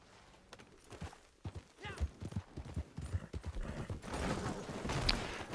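Horse hooves in Red Dead Redemption 2 Online, clip-clopping in an irregular rhythm at close range, with a brief whinny and rising wind or movement noise in the final seconds.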